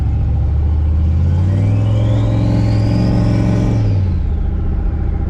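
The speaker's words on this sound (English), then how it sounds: "You hit a turbo spool?" Turbo spooling on a Chevrolet Colorado pickup fitted with a new turbo, a rising whine sweeping upward over a loud, steady engine drone before dropping away, with no talking.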